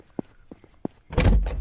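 A door opening in the video game Fatum Betula: a few soft wooden thumps, then a loud, broad creaking and rumbling swing that fills the end of the clip.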